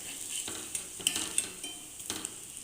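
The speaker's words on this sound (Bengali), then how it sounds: "আজকে আমি একটু সরিষার তেলেই ভাজছি" Bora fritters frying in mustard oil, a soft continuous sizzle and bubbling hiss with a few light clicks of a utensil, close and fairly quiet, without talk.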